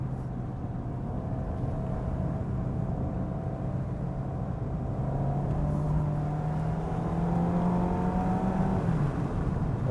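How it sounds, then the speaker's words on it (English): A 2024 Mazda MX-5 with automatic transmission, heard from inside while driving on a country road, its engine droning steadily under road noise, pitch rising gradually as it revs up through the gear over ten seconds. "when you got the engine revving."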